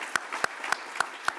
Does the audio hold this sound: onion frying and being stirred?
no